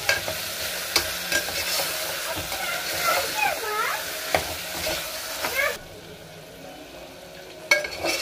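Tomato and chicken curry sizzle in a pan for chicken pulao while a spoon stirs them, with sharp scraping knocks over a steady fry, close up and partly under a speaking voice, then quieter near the end.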